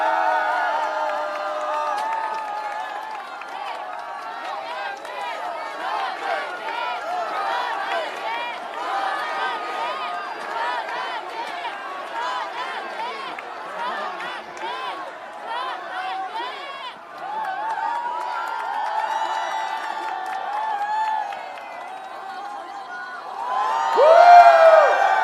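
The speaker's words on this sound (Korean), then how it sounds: "큰 박수 부탁드립니다." A large outdoor crowd at a prayer rally in front of the National Assembly in Seoul cheers and shouts continuously for a long stretch, loud and steady, then swells louder again near the end.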